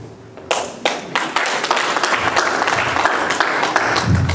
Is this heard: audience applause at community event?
yes